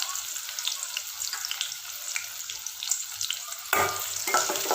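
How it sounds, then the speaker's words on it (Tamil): Shallots and curry leaves fry in hot oil, giving a steady close sizzle with occasional scraping stirs. The sizzle swells louder near the end as the pan is stirred again. "வெங்காயம் நல்லா வதக்கி விடுங்க."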